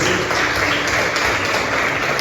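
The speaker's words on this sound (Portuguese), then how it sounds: "Queria que você aplaudisse ao Senhor" A church congregation applauding the Lord during a service held in a garage, a steady, loud wash of many hands clapping at once, sustained evenly with no voices standing out.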